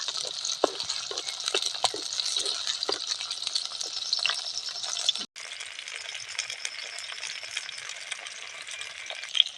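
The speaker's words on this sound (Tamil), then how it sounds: "வெங்காயத்தை நல்லா வணக்கிக்கலாம்" Onions sautéing in a pan for tomato chutney, a continuous bright sizzle with scattered scraping stirs and metallic taps, briefly dropping out midway and then carrying on steadily.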